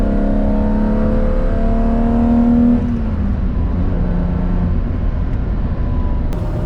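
A 1980 BMW M1 with its 3.5-litre engine drives close by, revving hard and holding a strong, rising drone before the revs drop away and it settles into a steady, lower running note.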